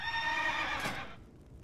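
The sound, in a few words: horse mount neighing in World of Warcraft video game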